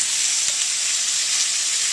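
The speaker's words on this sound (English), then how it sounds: "And then I've got small can of tomato paste, and I'm just going to dump that in here." Tomato paste from a small can drops into a hot pot, setting off a bright, steady sizzle that stays loud and even across the short moment, with a faint soft thud near the start.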